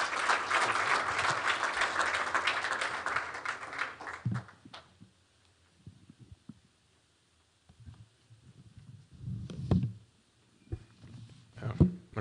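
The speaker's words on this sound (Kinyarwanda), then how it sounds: "tubaha amashyi" Audience applause at a national foundational learning campaign event fills the first four seconds as loud, dense clapping, then breaks off into near silence with only a few scattered claps and soft noises afterward.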